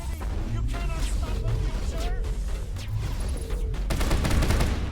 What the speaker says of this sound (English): the hostile shot the freaking scientist